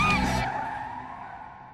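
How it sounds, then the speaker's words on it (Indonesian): A car skids during a crash in heavy rain: a brief, loud screech with a bright squeal for under half a second, then a fading low rumble and hiss. "Dia mengalami kecelakaan mobil."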